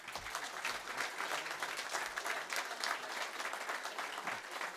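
An audience at a national conference of company secretaries applauds, continuous even clapping from a sizable crowd sustained throughout.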